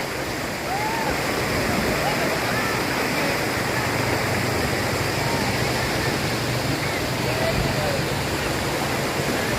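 A river rushes loudly and continuously past a riverside campsite in Pangalengan that is used for rafting, a dense, unbroken roar of flowing water that stays close and even throughout.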